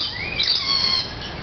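A bird in an East African setting gives a brief, high, bright chirping call with a short squawky rise, close and clear over faint insect-like background noise.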